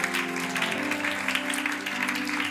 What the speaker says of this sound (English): Would you clap your hands to the Lord one more time in his presence?